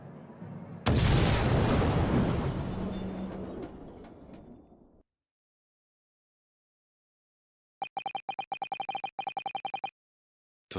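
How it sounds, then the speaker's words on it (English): A huge video-game explosion at the Great Exhibition's experimentation stage in The Great Ace Attorney 2 bursts in loud and close, then rumbles and decays over several seconds into silence, followed by a burst of rapid electronic beeps. "the enormous explosion that ripped through the experimentation stage of the Great Exhibition"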